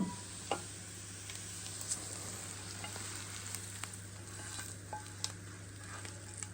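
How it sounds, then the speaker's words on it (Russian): A vegetable sauté frying in a pan: a steady, soft sizzle with scattered small pops and ticks, over a faint low hum in a quiet kitchen. "Зажарка у меня жарится."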